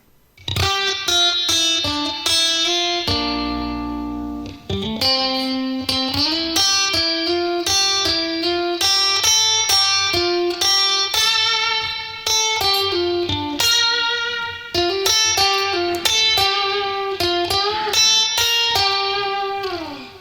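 A run of five electric guitar licks played back to back, with bright, rapid plucked notes and quick phrases continuing without pause at steady volume.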